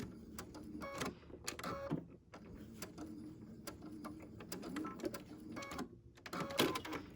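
A sewing machine back-tacks at the top of a gift bag ruffle, giving off fast, rattling mechanical clicks and whirring in short uneven spurts, fairly quiet and close.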